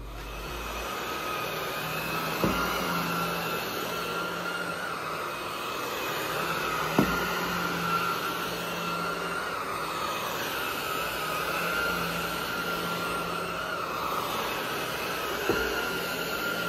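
A cordless vacuum cleaner runs with a steady broadband whir and hum in a new home, continuous and moderately loud, with a few faint knocks.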